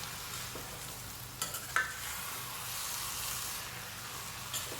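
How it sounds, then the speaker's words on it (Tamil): Chopped tomatoes are stirred and sautéed in a pan for tomato thokku, giving a soft, steady sizzle with a few faint scraping strokes of the spoon. "நல்லா வதக்கி விடுங்க அந்த ஈரமெல்லாம் வற்றி நல்லா வதங்கணும்"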